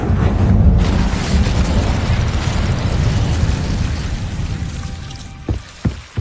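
The Incendio fire spell cast in Hogwarts Legacy gives a loud burst of roaring flame that starts at once and slowly fades over several seconds, followed by a few short sharp pops near the end.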